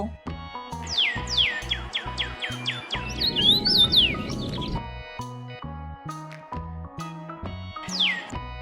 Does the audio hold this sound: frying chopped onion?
no